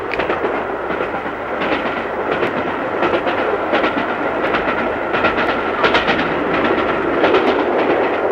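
The Elizabethan Express, hauled by Mallard, runs steadily on the rails with a continuous loud rumble and regular clickety-clack beats from the wheels passing over rail joints.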